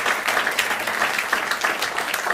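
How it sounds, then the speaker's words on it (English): Audience applause at an evening talk event, a dense steady patter of clapping at moderate volume without speech. "Round of applause."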